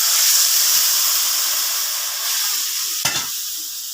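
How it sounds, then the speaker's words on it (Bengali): Water hits a hot pan after spring onion stalks have been frying, producing a loud, steady hissing sizzle, with a brief splashing burst near the end as the contents are stirred. "এবার আমি জল দিয়ে দিচ্ছি।"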